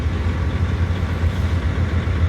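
Inside a tour bus on a Las Vegas area excursion, the engine idles with a deep, steady low rumble and throbbing vibration, close and continuous.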